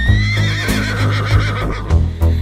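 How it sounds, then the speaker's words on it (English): Close, loud horse whinny with a rising, wavering cry over rhythmic hoofbeats, the neigh running through most of the stretch and thudding steps pulsing underneath. "H is for horse, galloping around."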